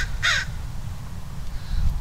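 Outdoors, one crow gives a single clear caw over a low steady background rumble, with a fainter call following later.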